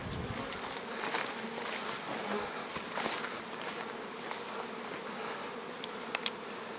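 Bees buzzing around the hives of an apiary on the open steppe, a dense steady hum close by, with faint scattered footsteps and rustles underneath and no talk.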